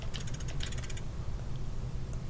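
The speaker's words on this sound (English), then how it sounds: "Turn dial 5 left 3 clicks" Mechanical clicking of a combination dial being turned in the video game Silent Hill: Downpour, a quick run of bright ratcheting clicks over a low hum, then a steady rumble with a few stray ticks.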